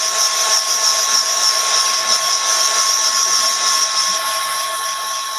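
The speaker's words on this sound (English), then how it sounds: "Let's just pick that up and just give these a good blast dry." A heat tool blows steadily to dry paint on a craft project, a loud continuous whirring hiss with a high whine that holds unchanged throughout, close by and alone.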